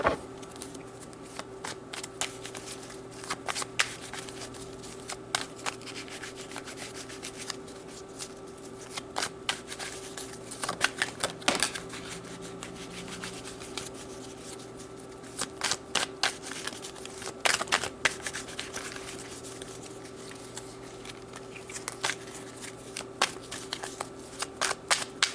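Tarot cards being shuffled by hand, soft close riffling and slapping bursts repeating irregularly over a quiet background hum.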